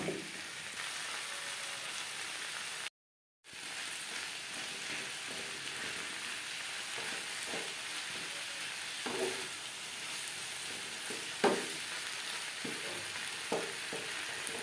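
Onions and tomatoes fry over high flame in a pan for a fish curry, a steady hiss of sizzling running throughout with scattered scrapes and taps of stirring, plus one brief gap of silence near the start.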